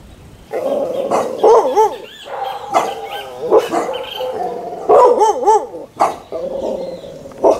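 A dog in Cayenne, French Guiana barks repeatedly at close range in short loud bursts, with some drawn-out howling yelps and a voice between the barks.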